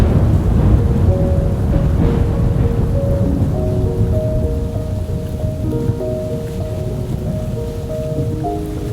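A lightning storm over a lake brings steady, heavy rain hissing on surfaces, with low rolling thunder rumbling underneath and music notes drifting over the top, loud and continuous throughout.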